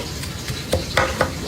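Sisig Kapampangan is stirred in a hot pan, loud and close, with a steady sizzle and a few distinct scraping clacks of the spatula against the pan, without talk.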